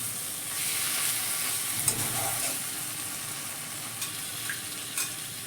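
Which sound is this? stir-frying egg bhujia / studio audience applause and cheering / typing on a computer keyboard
stir-frying egg bhujia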